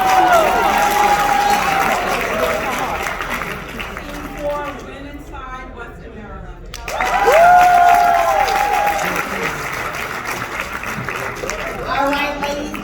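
An event audience at a Crowne Plaza gathering applauds and cheers for VIPs: a loud wash of clapping and whoops fades into a brief lull, then surges again before tapering off, with talk and shouting over it.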